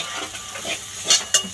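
Beto greens (bathua leaves) frying with sugar in a covered pan, a soft steady sizzle with light stirring scrapes and two sharper utensil clinks near the end.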